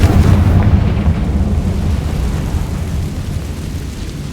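A Confringo blasting spell explodes in the video game Hogwarts Legacy: a loud, deep boom opens and then rolls into a long, slowly fading rumble.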